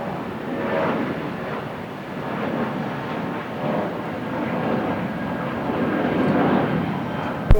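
Jetstar Airbus A320 engines roaring during a takeoff roll at Brisbane, a steady broad rumble heard from a distance, holding constant with no voices over it.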